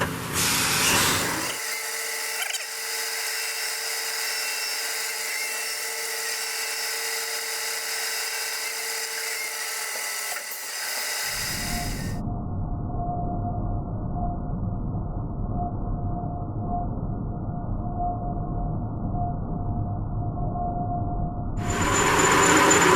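A metal lathe turns an expandable fixture down to 1 1/4 inches in diameter, giving a steady, loud machining whine with a tonal hum. The tone shifts partway through and carries on without speech.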